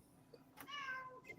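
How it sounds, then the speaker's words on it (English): A cat meows once, a brief rising-and-falling cry over a quiet indoor background, faint and moderately close. "If the kitty wants to come up, jump him up."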